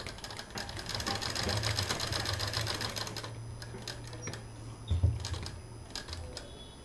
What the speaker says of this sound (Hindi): अब इसको सिल देंगे।